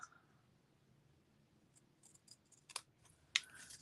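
Scissors trimming paper for a handmade card, several quiet snips and cuts toward the end, close and fairly faint, with soft handling noise before.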